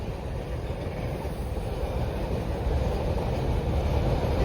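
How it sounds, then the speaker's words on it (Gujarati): A freight goods train passes close by near Girnar in Gujarat, a loud, steady, low rolling rumble of wagons that builds slightly and carries on throughout with no voices. "માલગાડી જાય છે."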